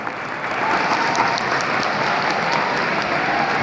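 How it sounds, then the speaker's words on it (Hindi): Audience applause for teachers at a Guru Purnima talk, a dense, steady roar of clapping from a large crowd, loud and sustained throughout with no voices over it. "अरे आपको बजा दो जोरदार तालियां"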